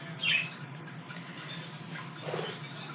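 Birds in a garden give a couple of brief, faint chirps, the first clearer and the second softer, over a steady low outdoor hum.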